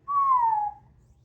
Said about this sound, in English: And I like doing this part because you kind of hit a whistle.